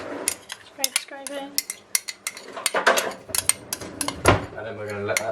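Utensils scraping a pan of puree in a home kitchen, a quick run of clattering metallic scrapes and knocks, close and uneven, with voices in the background.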